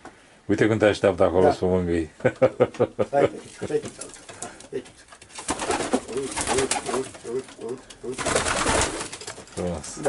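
Racing pigeons in a Romanian loft in Breaza, Prahova coo softly in the background while people talk close by over them, with the speech loud and dominant throughout.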